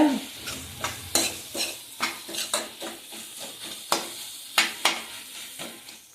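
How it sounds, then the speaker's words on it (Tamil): Ginger chutney stirred and sautéed in a pan: a spoon scrapes against the pan in an irregular series of close, distinct strokes over a soft, steady sizzle of frying, with no talking. "ஒரு 5 நிமிஷம் அதை வதக்குங்க."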